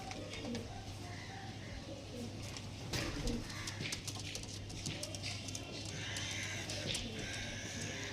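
Pigeons cooing softly amid a busy, noisy background of mixed chatter and movement, steady throughout.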